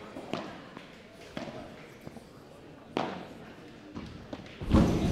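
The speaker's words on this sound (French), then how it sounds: "Maxime Joris qui s'explose dans la vitre" During a padel match at the French championships, a player slams into the glass wall with a heavy thud near the end, following a few ball and racket knocks in a reverberant court.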